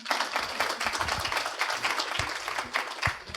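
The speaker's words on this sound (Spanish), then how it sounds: "Un fuerte aplauso para todos ustedes" Loud, dense applause fills a hall at a panel on Amazon journalism, many hands clapping together continuously with a few heavier claps near the end.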